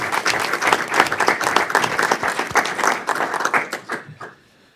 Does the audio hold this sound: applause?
yes